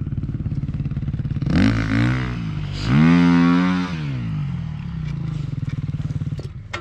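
A motorcycle engine idles with a rough, rapid putter, then is throttled up twice into rising revs that drop back to idle.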